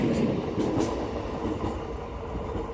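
Steady rumble and rattle of a DEMU passenger train running from Agartala to Karimganj, heard from inside with continuous wheel noise and a few faint clicks.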